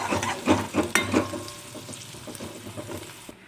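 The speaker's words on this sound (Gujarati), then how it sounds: "ડુંગળી આપણે એટલી વાર સાતળવાની છે કે ગોલ્ડન બ્રાઉન થઈ જાય" Onions sautéing in a pan for a Kathiyawadi-style gathiya curry, with a close sizzle and a few sharp stirring scrapes early on that settle into a softer, steady frying hiss.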